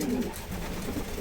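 A racing pigeon coos in a loft, a low soft murmuring call repeating through the short stretch with a faint busy background.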